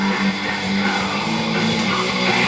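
Black metal music plays continuously, a dense wall of distorted guitars and drums with steady loudness throughout and no voice over it.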